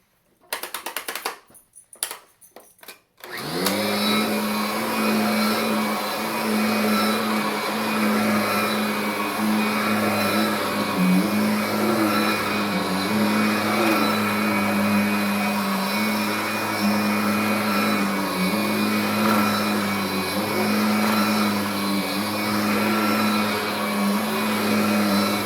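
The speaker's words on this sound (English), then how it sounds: "with the old transmission gears, it pushes way easier and it should have a whine," After a few brief clicks, a Kirby vacuum cleaner fitted with old transmission gears starts up and runs steadily and loudly, its motor drone carrying a constant high gear whine.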